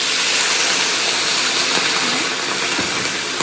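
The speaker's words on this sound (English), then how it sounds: "I'm going to put a little bit of water" Water hits a hot pan of vegetable stir fry, a loud broad sizzling hiss that stays steady for a few seconds, with a faint clink or two and no talk.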